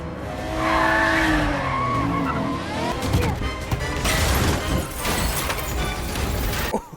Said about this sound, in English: I always can use a good car chase, especially if there's motorcycles involved.